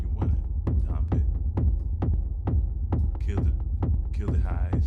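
Kick drum programmed in Reason with reverb, thumping about a dozen times in a steady even beat, each deep hit trailing a short wash, loud and alone.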